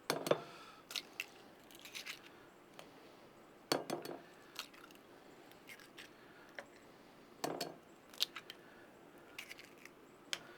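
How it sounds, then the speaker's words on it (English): Eggs crack into a bowl for an egg wash, heard as a few sharp, close taps and clinks against the rim spaced several seconds apart, with quiet handling noise in between and no talking. "So I have some eggs here for some egg wash. Get cracking those in this bowl."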